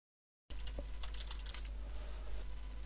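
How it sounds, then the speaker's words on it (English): A run of soft, quick key clicks as a root password is typed on a computer keyboard, close and quiet, with no voices. "type in our root password"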